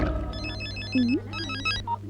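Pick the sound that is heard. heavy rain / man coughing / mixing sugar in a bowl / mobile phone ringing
mobile phone ringing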